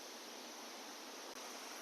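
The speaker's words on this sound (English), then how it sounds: "This is the Wachirathan Waterfall." Wachirathan Waterfall in Doi Inthanon National Park, Thailand, roars as a dense, steady rushing wash of water with one split-second dip, and no one speaks.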